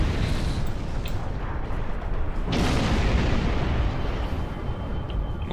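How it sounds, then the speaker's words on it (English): Starship cannons firing in the Star Trek Online space combat game, a dense continuous barrage of booming blasts with a sharper burst midway, loud and steady throughout. "And you can see just how powerful cannons are."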